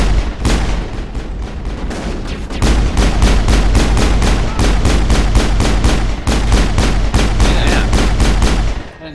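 Video game gunfire erupts in dense, rapid bursts of automatic shots, loud and close, with brief pauses between volleys.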